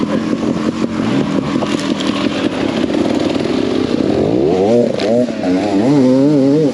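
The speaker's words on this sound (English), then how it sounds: "Enduro bike, keen as mustard behind me." An enduro motorcycle engine snarls close behind on a trail, a loud buzzing drone whose pitch swings up and down repeatedly as the rider works the throttle; no voices.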